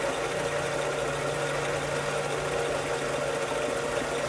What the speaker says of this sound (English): What I'm doing now is called a facing cut, where you basically flatten the end.